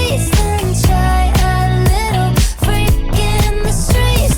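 Full-band vintage disco-funk groove, with a steady punchy beat, bass and bright chordal layers, playing loud and continuous with no voices.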